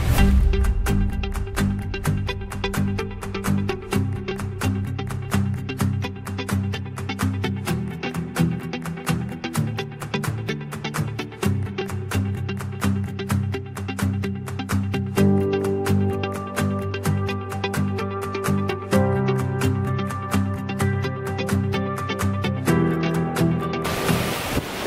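Spray from Grojogan Sewu waterfall in Tawangmangu, blown by the wind, makes a steady, loud rushing wash of broadband noise that runs continuously with gusty pulses throughout.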